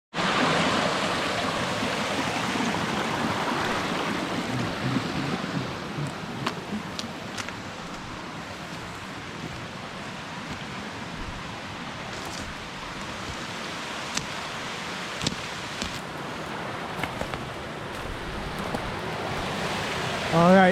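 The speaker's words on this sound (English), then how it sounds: "this is a beautiful little spot here. Nice waterfall." A small waterfall in the Monashees wilderness of British Columbia pours in a continuous, full rushing roar, steady and close throughout, with faint clicks and knocks over the wash.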